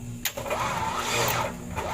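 An overheating Mazda 3 engine is cranked and started, with a sharp click and a rising mechanical whir settling into a rough engine run, heard up close.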